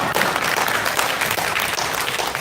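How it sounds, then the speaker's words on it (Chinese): An audience applauds a speaker at a Taiwanese American summer conference in San Diego. The clapping is loud, dense and continuous, and it sounds close. "掌声鼓励一下"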